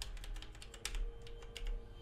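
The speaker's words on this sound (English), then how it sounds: "That's a clack. That's a mechanical keyboard" Rapid clacking from a mechanical keyboard in the Eve Online video game, crisp irregular keystrokes following one another closely and loudly, unaccompanied by speech.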